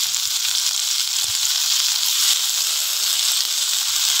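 Watermelon rind shukto cooking in a pot, a continuous bright hiss of sizzling with faint soft ticks and bubbling underneath, steady and fairly close throughout.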